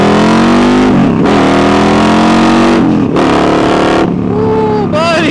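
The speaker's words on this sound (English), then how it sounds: "Let me try to shift one gear without the clutch." Harley-Davidson Road Glide motorcycle shifting up a gear without the clutch: a loud, close engine drone rises, dips sharply at each shift and climbs again, with wind roar over the ride.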